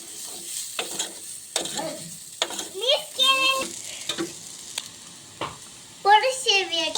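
Rice vermicelli made from rice flour is stirred in a pan, with scattered scrapes and taps of the utensil against the pan over a faint sizzle, and a few brief voiced sounds in between.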